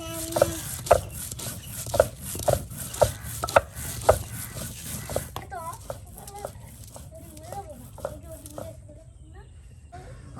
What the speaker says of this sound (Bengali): আর এই যে এখানে আপনার পেঁয়াজ রসুন ফেসে নেওয়ার পর এখন জিরা ফেসে নেওয়া হচ্ছে।